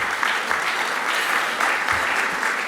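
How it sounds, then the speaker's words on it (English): A lunchtime crowd at a Salvation Army Flower Power event applauds steadily, a dense, even wash of many hands clapping that holds at full strength for the whole stretch. "Give yourselves a round of applause for being here."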